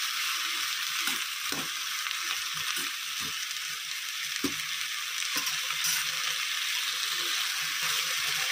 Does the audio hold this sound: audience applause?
no